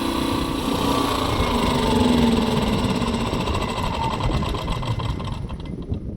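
An AL-KO 2000i inverter petrol generator runs without load, giving a steady, fairly close buzzing engine drone that holds a constant pitch with only slight wavering.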